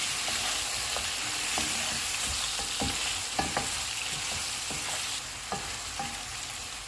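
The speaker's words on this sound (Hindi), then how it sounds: "इसमें अदरक और लहसुन का पेस्ट डालेंगे। इनको 1 मिनट तक भूनेंगे।" Mutton sizzles in a hot pan with ginger garlic paste, a steady dense frying hiss broken by occasional scrapes and taps of a stirring spoon, close and without talk.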